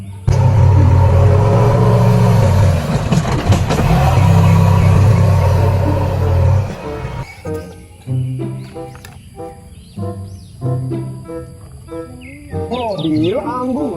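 A toy bulldozer gives off a loud, steady rumbling engine drone for about seven seconds, then it stops and gives way to scattered chirpy electronic beeps and tones.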